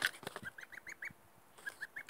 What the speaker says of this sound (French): Magnifique des oies.